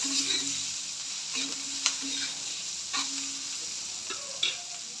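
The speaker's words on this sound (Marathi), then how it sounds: "आता कांदा थोडासा ब्राऊन कलर येईपर्यंत परतून घ्यायचा तेलात" Chopped onion and green chillies frying in oil in a pan, a steady close sizzle broken by several sharp spatula scrapes and taps, no voices.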